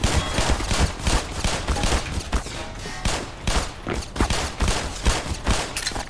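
Pistol fire in the Black Mesa shooter game, a rapid string of sharp gunshots in quick irregular bursts, loud and close, with brief gaps between volleys.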